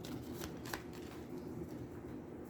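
Cards from the Aeons End 2nd Edition deck-building game being shuffled by hand, with soft riffling bursts and a few sharper flicks, close and continuous over a quiet room.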